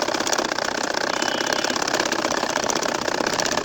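A domestic sewing machine stitching petal designs into a baby's nakshi kantha quilt runs as a steady, rapid mechanical whir with fast needle chatter, loud and close, holding evenly throughout with no talking.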